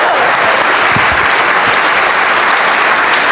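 Loud, close applause fills the room at the University of Washington football press conference introducing head coach Kalen DeBoer, a thick continuous roar of clapping with a few low thumps and no speech over it.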